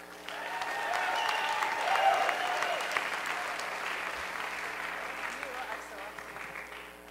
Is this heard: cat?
no